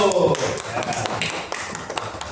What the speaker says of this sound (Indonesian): beri tepuk tangan kelompok pertama